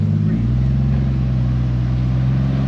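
A car running on a dyno at an open house dyno day, a loud, steady low engine drone held at constant revs throughout, close and dominant.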